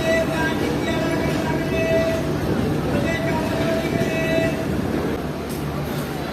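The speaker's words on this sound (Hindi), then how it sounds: "ट्रेन लाहौर रेलवे स्टेशन के प्लेटफॉर्म नंबर 2 पर आ चुकी है।" A train rolls into a platform at Lahore railway station, its steady rumble and rail noise filling the air alongside faint tonal horn-like hums, with people talking in the background throughout.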